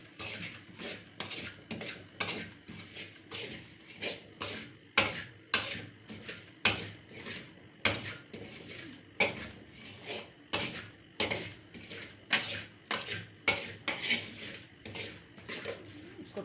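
A spoon scrapes and knocks against a pan of semolina roasting in pure cow's-milk desi ghee, sounding as a steady series of short metallic clinks and scrapes in an irregular stirring rhythm, close and fairly quiet.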